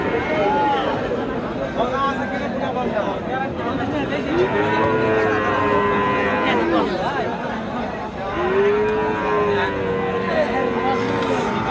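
Cattle moo repeatedly in long, drawn-out calls amid the steady chatter of a busy crowd at an outdoor cattle market in Naogaon, Bangladesh, with Gir cattle.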